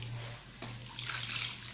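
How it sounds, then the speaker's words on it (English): Water poured into a bowl while preparing a tiger nut drink, a short splashing and trickling rush that swells in the second half, close and moderately loud over a low steady hum. "You need to add more water to it."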